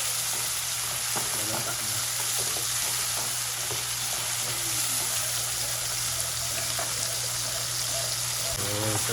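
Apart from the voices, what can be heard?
tomatoes frying in a pan after onions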